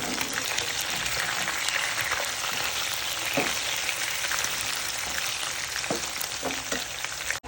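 Chicken pieces coated with kanthari chili fry in a pan with a continuous close sizzle. Small pops and crackles flare up here and there, and no one speaks.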